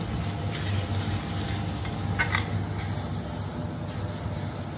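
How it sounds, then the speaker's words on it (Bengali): Onions frying in a pan for homemade biryani, giving a steady close sizzle broken by occasional scraping stirs, with no talk. "এটাকে পেঁয়াজটাকে একটু লাল করে ভাজবো আমরা"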